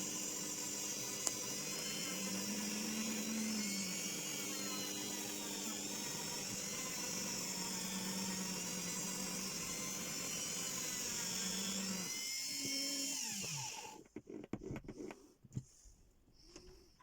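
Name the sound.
power sander shaping a driftwood hazel ring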